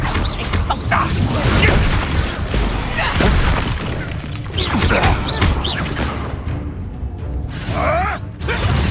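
Confringo explosion spells blasting in Hogwarts Legacy: repeated booming bursts with crackling, shattering debris and mechanical creaks, loud and close, roughly every few seconds, with a voice faintly present beneath.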